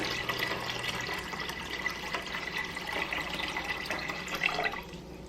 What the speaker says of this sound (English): Now I am pouring in the water.